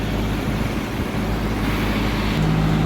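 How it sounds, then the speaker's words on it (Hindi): A car being winched up onto a hydraulic flatbed truck, heard as a steady, loud low engine and road rumble with continuous traffic-like drone throughout and no speech. "तो ये गाड़ी तकरीबन चढ़ चुकी है, हाइड्रोलिक की ये ट्रक है।"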